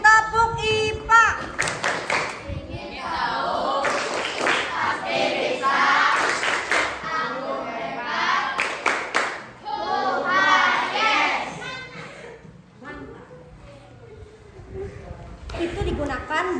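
A classroom group of children does a rhythmic clapping chant, sharp bursts of clapping alternating with chanted voices, lively and close, with a teacher's voice around it.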